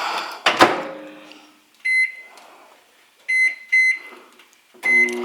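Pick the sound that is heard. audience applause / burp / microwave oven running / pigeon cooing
microwave oven running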